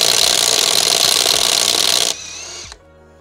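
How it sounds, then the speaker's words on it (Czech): A Parkside Performance PPDSSA 12 A1 cordless impact wrench on its fourth setting, fitted with a chrome-moly wheel socket, hammers loudly and continuously at a wheel nut for about two seconds, then winds down and stops. "zkusím si povolit kola, mám tady ty chromolibdenové ořechy přímo na kola, dám si tam na povolení čtvrtý stupeň"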